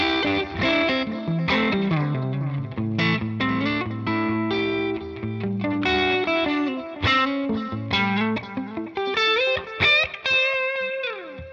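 A 1950s custom shop Stratocaster electric guitar played through a TONEX Victory VC35 amp tone model with delay, a clean melodic phrase of chords and single notes ringing out with echo.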